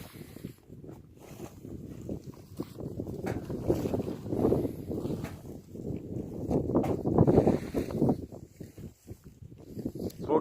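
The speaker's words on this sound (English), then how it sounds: "Even though it's windy, it feels cold" Gusty wind buffets the microphone outdoors on a windy early-March day, low rumbling blasts that rise and fall in loud waves.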